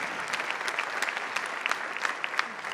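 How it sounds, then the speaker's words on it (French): An audience at a political rally gives a sustained burst of applause, many hands clapping densely and evenly throughout, fairly close and loud. "Un grand applaudissement pour eux."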